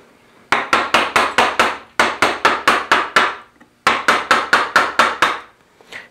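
Sharp, close mallet blows on a chisel wasting out wood for a through mortise in step-stool joinery, landing in quick runs of five or six strikes separated by brief pauses.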